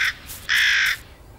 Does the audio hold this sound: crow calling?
yes